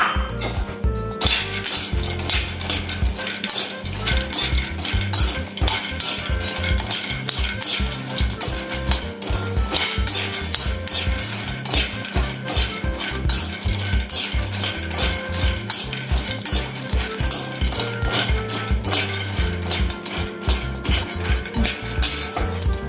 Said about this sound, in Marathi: कढईमध्ये थोडंसं तूप आहे अजून त्यामध्ये मी बदाम भाजून घेतो